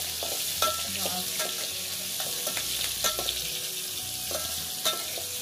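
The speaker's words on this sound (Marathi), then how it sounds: "पहिली फोडणी बसलेली असा" Tempering spices sizzle in hot oil in a pan, a steady close frying hiss with a few clinks and stirring taps scattered through it, and no one talking.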